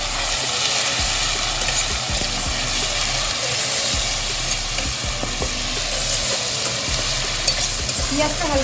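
Onions fry in a pan with crushed cardamom pods for a Bengali-style white chicken curry. A steady, close sizzle runs throughout, broken by repeated scraping strokes of a stirring spoon, with no talking.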